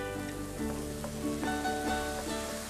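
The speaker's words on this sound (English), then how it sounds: "wait for a little sizzle of oil around the garlic" Steady sizzling of oil in a pan, crackling continuously at moderate volume, with no voices.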